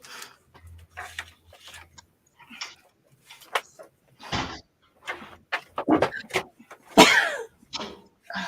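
Several short bursts of a person sneezing close by, scattered unevenly with pauses in between, loud and sharp against an otherwise quiet room.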